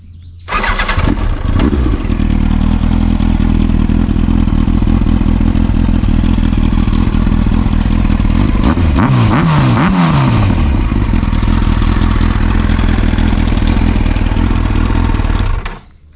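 A Yamaha R1 sport motorcycle's engine starts and runs loud and close, with a few sharp revs blipping up midway before it cuts off at the end.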